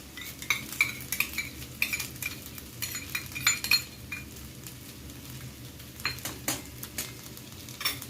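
A metal spatula scrapes and clinks against a pan while veg fried rice is stirred, the irregular taps and scrapes riding over a soft steady sizzle, close and moderately loud with no voices.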